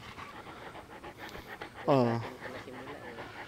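A Caucasian Ovcharka or Alabai dog pants steadily and close by, with one short louder vocal burst midway, while a person speaks briefly in the background.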